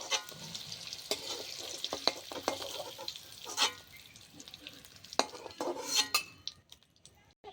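Food sizzles in a pan while a utensil stirs and scrapes, with scattered metallic clinks and taps against the pan, close and fairly quiet.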